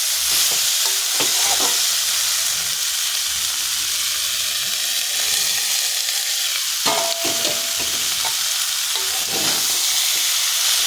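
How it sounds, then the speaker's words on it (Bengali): Prawns that were fried earlier sizzle and crackle in a pan of spices, with steady frying hiss and occasional scraping stirs running throughout, close and fairly loud. "ভালো করে কষিয়ে নেব মশলার সঙ্গে নিয়ে এবার আমি এখানে দিয়ে দেবো ভেজে রাখা চিংড়ি মাছ"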